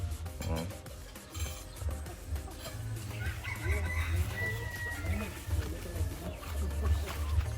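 Hens clucking on a backyard farm where brood hens are being conditioned, small rhythmic calls scattered through steady low farmyard noise, with people talking nearby throughout.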